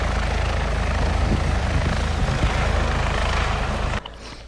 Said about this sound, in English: Helicopter's there.